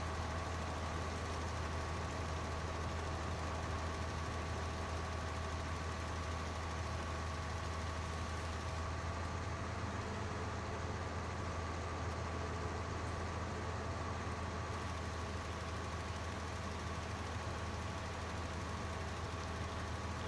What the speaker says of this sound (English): I'll take this tractor over to where the John Deere is.